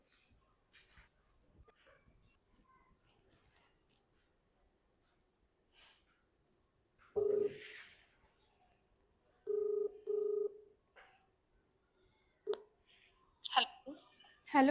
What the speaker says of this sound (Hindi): अभी वृद्धाश्रम में फ़ोन करती हूँ।